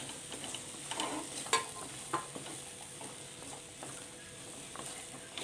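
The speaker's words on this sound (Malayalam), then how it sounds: "ഇനി ഇതിലേക്ക് എടുത്തു വച്ചിരിക്കുന്ന വേവിച്ച ഗ്രീൻ പീസും കൂടി ഇട്ട് കൊടുക്കുക" Cooked green peas are stirred into masala frying in a pan, with soft, faint scrapes and gentle sizzling, and a few sharper clicks of the spoon against the pan.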